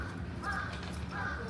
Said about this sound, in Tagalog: Oh, may uwak din. Narinig nyo?